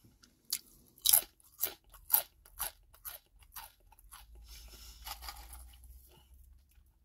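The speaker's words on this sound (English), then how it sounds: "Yeah, let's do an open mouth crunch." Open-mouth crunching of Kettle Brand Backyard Barbeque kettle potato chips: about eight sharp, separate bites in an even rhythm, close and crisp, then softer continuous chewing crackle, with no talk.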